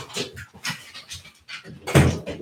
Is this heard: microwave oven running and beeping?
no